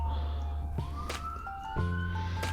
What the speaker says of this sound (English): Sorry if you hear sirens in the background.